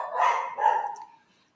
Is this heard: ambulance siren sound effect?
no